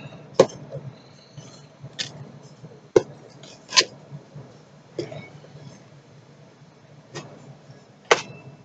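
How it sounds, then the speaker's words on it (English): A small pocket knife slices through packing tape to open a taped cardboard box, giving a handful of sharp, separate clicks and scrapes spaced a second or so apart, close and fairly quiet with no talking. "Grab our little tiny handy pocket knife."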